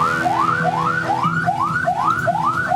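Repeating rising wail of an ambulance siren carrying patients to an Indonesian regional hospital emergency unit in Magelang, loud and steady, cycling about every half second with a low rumble underneath.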